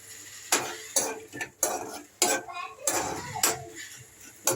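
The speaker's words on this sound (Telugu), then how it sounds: "కొంచెం ఇవి వేగిన తర్వాత మనం పల్లీల్ని వేసుకోవాలి" Peanuts tossed into a frying pan while cooking mango pulihora, a series of clattering, rattling bursts against metal with stirring and light sizzling in between, close by.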